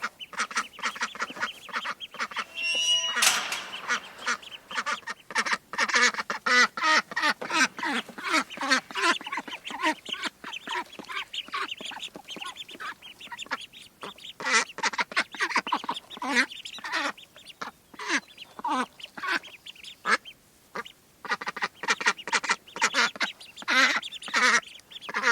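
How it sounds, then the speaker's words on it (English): Baby Indian runner ducks quack and peep in a lively, continuous chorus, many small voices overlapping close by in rapid irregular bursts, with no talking. "the baby runner ducks, little Indian runner ducks"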